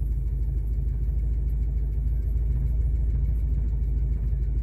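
A V8 engine swapped into a Ford Ranger, parked with the brake set for a power balance test, runs with a steady low rumbling idle close by and unbroken throughout.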